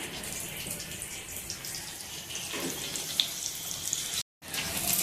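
Fish frying in a pan over a low flame gives a steady, close, hissing sizzle that runs evenly throughout, with one brief drop to silence near the end.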